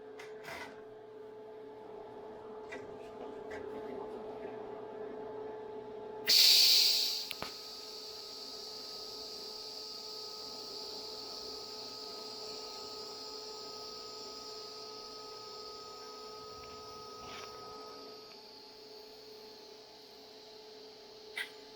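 A TIG welder running at 100 amps with filler on an outside corner joint starts with a sharp high-frequency crackle, then settles into a quiet, steady electric buzz that holds for about ten seconds before cutting out.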